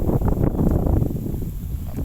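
Cold morning wind blows through a garden, a steady low rushing roar buffeting the microphone, with faint rustling and no voices heard.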